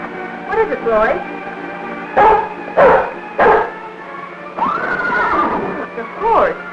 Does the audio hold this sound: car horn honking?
no